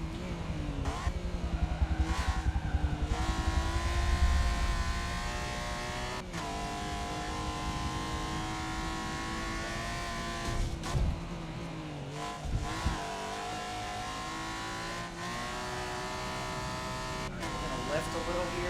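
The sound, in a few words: race car engine on a flying lap in Forza 7 video game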